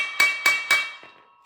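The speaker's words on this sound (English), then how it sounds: "pop it down into that cap carefully, and then take your hammer" A hammer strikes a universal joint bearing cap, tapping it into place: three sharp metallic taps at a steady pace, then a fainter fourth tap, close and ringing, with no talking.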